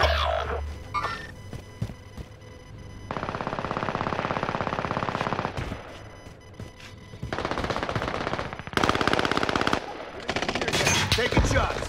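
Bursts of automatic gunfire from Call of Duty: Modern Warfare rattle loud and close, long sustained volleys broken by short pauses, with a few single shots and echoing impacts.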